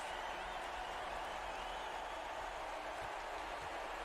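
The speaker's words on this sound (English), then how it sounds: "You can hear the crowd right now." Basketball crowd cheering and applauding right after a quick dunk late in a tight finals Game 7, a steady, even roar of voices and clapping that holds throughout.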